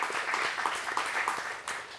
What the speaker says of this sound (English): Ladies and gentlemen, round of applause for Marshall Louis.